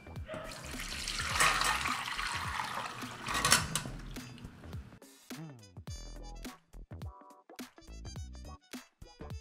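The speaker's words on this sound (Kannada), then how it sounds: "ಈಗ ಇರಲಿರ್ತಕ್ಕಂಥ ನೀರನ್ನ ಹಾಗೆ ಗೋಬಿನ ಬೇರ್ಪಡಿಸ್ಕೊಳ್ಳೋಣ." Soaked cauliflower florets for gobi 65 being drained of their hot soaking water, a splashy pour for the first few seconds followed by sparse clattering knocks and handling sounds.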